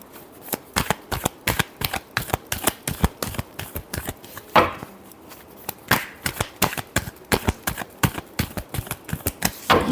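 Tarot cards are shuffled and riffled over and over in quick, crisp, close bursts, a steady patter of snapping card sounds with only brief gaps; no voice.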